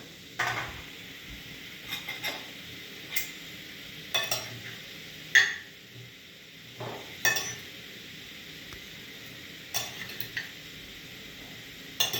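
Port wine caramelizing in a pan before apples are added for a flambé, a faint bubbling sizzle under repeated light clinks and scrapes of a utensil against the pan, close and fairly quiet.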